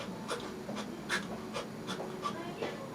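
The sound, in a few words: imitated breathing noises from spliced inhale and exhale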